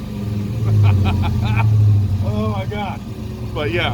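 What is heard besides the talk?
6.1 HEMI V8 exhaust note of a 1970 Dodge Coronet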